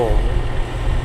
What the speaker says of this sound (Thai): เครื่องยนต์ฮีโน่